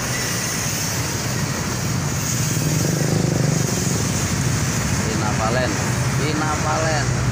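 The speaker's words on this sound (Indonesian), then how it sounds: "Dikit-dikit tersendat, tapi nggak semacet yang tahun-tahun kemarin." Holiday homecoming traffic on Indonesia's Pantura highway: a steady, loud roadway roar of passing cars, buses and motorcycles, with a couple of horn-like tonal bursts near the end and no speech over it.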